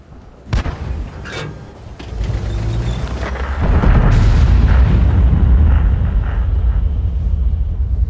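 Skoda T 40 artillery gun firing in a video game, a sharp blast followed by a deep rolling rumble that builds and sustains, loud and close with no talk.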